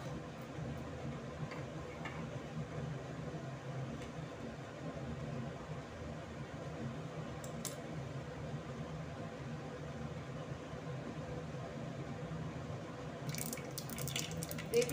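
Mustard seeds and onion crackle in hot mustard oil while green chili pickle is made. A steady, faint sizzling hiss runs throughout, with a few sharper pops near the end and no talking.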